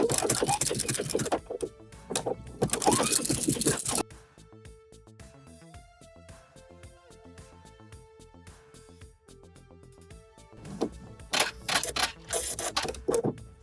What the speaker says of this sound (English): you can do this on your sewing machine with your knit stitch or on your serger